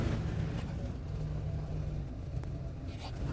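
An old OBS Ford F250 truck that sat for a decade rolls along with a low, steady rumble and faint rattles, fairly quiet and continuous with no talk.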